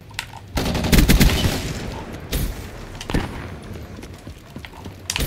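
Light machine gun fire in Black Ops 3, heard as loud, dense bursts of automatic shots with sharp cracks, tapering into scattered single reports and small impacts near the end.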